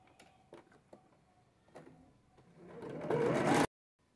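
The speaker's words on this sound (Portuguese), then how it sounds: "a gente vai passar uma costurinha aqui" Domestic sewing machine stitching a small fabric fish fin for a pencil holder: a few soft clicks and handling taps, then a steady rising motor whir of fast stitching that stops abruptly.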